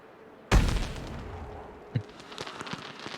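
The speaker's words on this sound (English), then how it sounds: "I love the fireworks. popping up." Fireworks in a video game set in a dark fantasy kingdom, with a loud bang at the start and a second pop a little later, followed by scattered crackling bursts.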